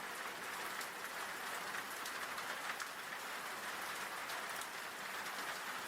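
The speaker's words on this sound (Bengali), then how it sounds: "বৃষ্টি হঠাৎ আবার প্রচণ্ড রূপ নিল।" Heavy, steady rain pours without a break in a rainy-night village ghost story, a dense hiss that stays loud and even throughout, with no voices.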